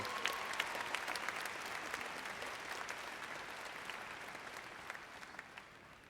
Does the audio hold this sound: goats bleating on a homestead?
no